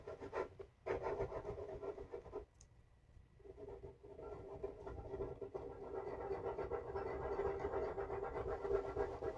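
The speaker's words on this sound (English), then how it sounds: "Right on top of those tool marks I just created with the rasp." A woodcarving rasp files across a carved wood surface, making a steady close scraping and rubbing that goes on almost continuously after a short pause.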